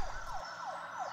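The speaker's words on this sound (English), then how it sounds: "Oh look, it's a police car, said Peppa Pig." A toy police car's siren wails in repeated rising and falling sweeps, moderately close and steady, with a low engine rumble fading early on.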